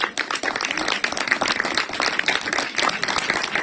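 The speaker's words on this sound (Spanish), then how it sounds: "Varones, vamos a dar un fuerte aplauso a las mujeres" Strong applause from the men in a church congregation for the women, many hands clapping densely and loudly, with light crowd noise mixed in and a steady level throughout.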